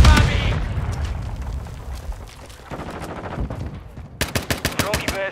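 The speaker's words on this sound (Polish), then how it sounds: "Pod ostrzałem!" Heavy gunfire in Call of Duty: Modern Warfare II. A loud burst opens, scattered shots follow, then a rapid, close automatic volley near the end. Shouted voices come through amid the battle noise.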